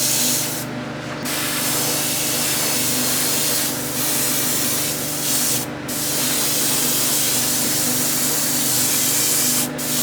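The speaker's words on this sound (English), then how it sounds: "I just test my airbrush on every time, make sure it's all, I'm happy with how it's coming out." Airbrush spraying paint onto a crankbait fishing lure, a steady close hiss broken by brief brighter bursts as the trigger opens, with no voices.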